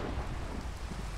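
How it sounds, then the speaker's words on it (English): A heavy thunderstorm in Minecraft pours rain, with deep rumbling thunder under a dense, loud hiss of rainfall and no speech. "I'm just getting hit by a massive thunderstorm right now"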